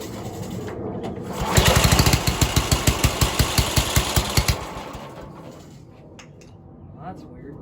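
A repaired Toro 726 two-stage snow blower, model 31760, starts up with a rapid pulsing engine chug for a few seconds, then sputters and dies away into a quiet background.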